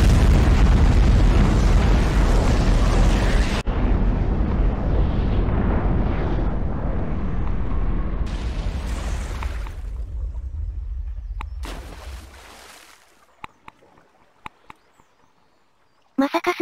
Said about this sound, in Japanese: まさか水中から上がる時の衝撃で爆発するとはな